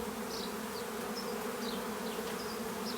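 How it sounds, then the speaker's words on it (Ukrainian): A swarm of honeybees pours out of a hive in late spring, a steady, dense buzzing drone with individual bees zipping past close by, continuous throughout with no talking. "Мабуть, весь вулик в мене вилетів"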